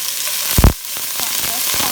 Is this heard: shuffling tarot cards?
no